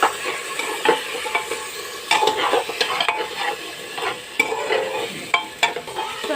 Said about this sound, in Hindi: यहाँ पर देखो हमारी मटर भून चुके हैं